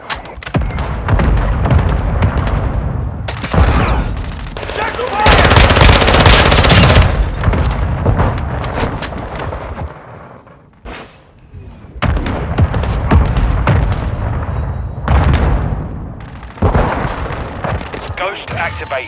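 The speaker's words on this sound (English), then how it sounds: "Hostile mortar strike near your position." Mortar strike and gunfire in Call of Duty Modern Warfare 2 multiplayer: loud, dense bursts of automatic fire and heavy thuds fill most of the stretch, with a short lull partway through before the barrage resumes, and voices heard amid the combat.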